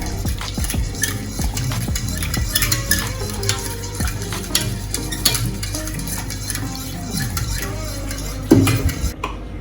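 Cornmeal is stirred with coconut milk in a pot, a steady close scraping and swishing churn that runs throughout with small clinks of a utensil against the pot, a sharper knock near the end, and no voices.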